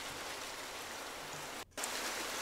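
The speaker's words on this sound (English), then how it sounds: "Let's add some nice rain to it." A steady wash of heavy rainfall from a rain sound effect hisses throughout, briefly cutting out for a moment before resuming just as loud.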